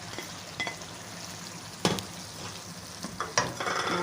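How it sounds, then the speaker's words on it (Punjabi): Minced meat for a stuffed tinda dish frying quietly in a pan, with a soft sizzle under a few sharp scrapes and clicks of a stirring utensil. "ਹੁਣ ਅਸੀਂ ਇਹਨੂੰ ਥੋੜ੍ਹਾ ਜਿਹਾ ਹੋਰ ਫਰਾਈ ਕਰਨਾ ਹੈ।"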